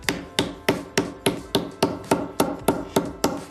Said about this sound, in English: that'll be roughed in with this sinking hammer and this wooden stump with some depressions in it